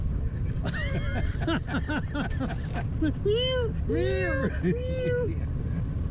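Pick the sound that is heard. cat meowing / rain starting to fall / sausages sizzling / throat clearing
cat meowing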